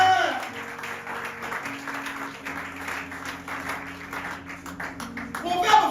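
Church congregation applauding in worship, a steady mass of clapping under sustained organ or keyboard chords, with voices mixed in throughout.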